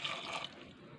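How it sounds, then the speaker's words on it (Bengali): Water poured onto small puti fish in a cooking pot, a brief soft trickle and splash that fades after the first half-second, close and fairly quiet. "জল দিচ্ছি বন্ধুরা"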